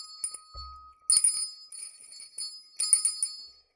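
A small hand bell rung several times, bright metallic dings with shimmering overtones in three clear strikes, near and alone with no talk.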